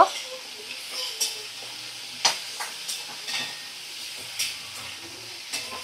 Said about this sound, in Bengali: দিয়ে একদম লো ফ্লেমে রেখে দিয়ে ভালো করে আমি মশলা কষিয়ে নেব